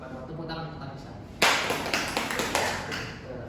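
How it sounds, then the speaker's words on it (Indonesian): A classroom of pupils claps for their classmate Anissa during a religious studies lesson. After a quiet pause, a sudden, fairly close burst of clapping starts and keeps going with scattered sharp claps as it slowly fades. "Tepuk tangan untuk Anissa."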